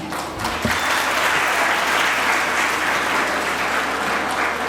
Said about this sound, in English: Let's put a huge round of applause and welcome the chief guest for today's program.